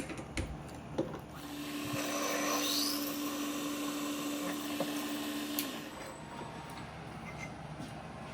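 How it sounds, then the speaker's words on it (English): A PM 728V-T vertical milling machine drills a clearance hole partway through a metal part, a steady machine whine and cutting drone running for several seconds before winding down, with no talking. "I'm going to put a clearance hole through the backside about halfway."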